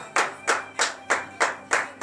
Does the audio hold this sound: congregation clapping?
yes